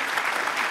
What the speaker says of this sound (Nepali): उपेन्द्र दाईको लागि फेरि जोरदार ताली दिनुहोस्